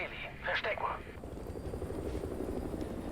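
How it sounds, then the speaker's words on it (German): An enemy helicopter on patrol in Call of Duty Modern Warfare 2 Remastered makes a steady rotor drone throughout, while a radio-style voice speaks briefly early on. "Feindlicher Heli auf Patrouille."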